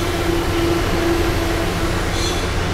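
A diesel train rolls along the rails between North Haven and Old Saybrook, a steady rumbling ride heard from inside with a constant hum, close and loud, with no talk.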